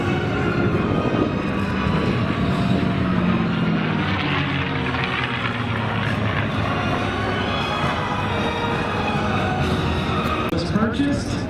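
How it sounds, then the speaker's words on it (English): A P-51 Mustang named Plum Crazy flies at the Central Coast Airfest in Santa Maria, California, its propeller engine droning steadily throughout beneath continuous announcer commentary. "pilot Wayne Hanley in 2005, and she calls this aircraft Plum crazy."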